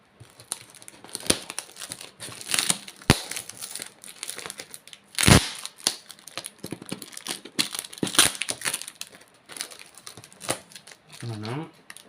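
Someone opens a taped mystery parcel, tearing and crinkling packing tape and wrapping in irregular bursts with a few sharp rips, close by, while a voice speaks intermittently.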